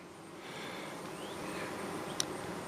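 Honeybees at an opened beehive give off a soft, continuous buzzing hum, faint and steady throughout, with a brief sharp click near the end.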